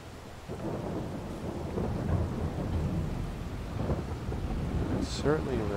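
Thunder rumbles low and steady in Farming Simulator 22 ahead of rain, with a faint patter over the rolling storm and a brief voice near the end.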